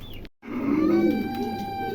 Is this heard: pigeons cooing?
yes